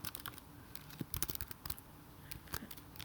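Fingers type an email address on a computer keyboard, a quiet close run of irregular key clicks with a few sharper taps and short pauses, no talking.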